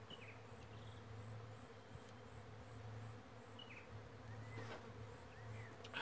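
Bees swarming inside and around a wine barrel, a steady close buzzing hum with a few louder individual bees flying past, continuous and without speech.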